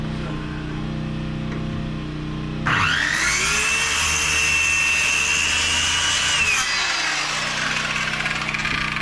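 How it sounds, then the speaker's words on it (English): A Sawzall reciprocating saw cuts through part of a rotten trailer, starting abruptly after a low engine-like hum and running as a loud, steady buzzing rasp for about four seconds close by before easing off. "Didn't make it all the way through, so I'm at the sawzall the rest."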